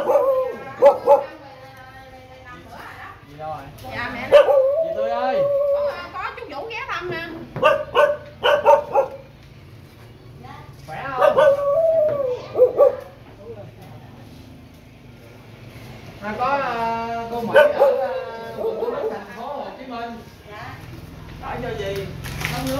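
A dog barks and yips in short bursts at a roadside home during a door-to-door water handout, with people talking nearby between and over the barks.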